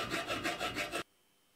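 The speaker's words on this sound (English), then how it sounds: "The edge of the iron square tube is filed" An iron square tube edge being filed by hand: five rapid, rhythmic rasping strokes, close and fairly loud, stopping abruptly into silence.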